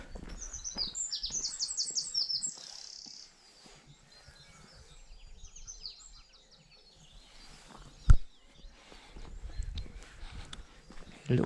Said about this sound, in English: The little birds that are making chirping noises seem to be quite clever, seem to be quite smart at keeping themselves hidden away.